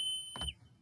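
Radiation counter sounding a high alarm as a pancake probe checks contamination at a facility: a steady electronic tone runs throughout, with a short burst of broadband noise in the middle.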